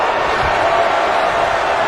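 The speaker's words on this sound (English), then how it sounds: "Listen to this crowd." Arena crowd at a wrestling event roars steadily and loudly throughout, a dense wash of cheering with no breaks.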